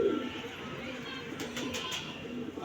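Pigeons cooing softly in a coop, low repeated coos under a steady background hiss with faint clicks, fairly quiet and close.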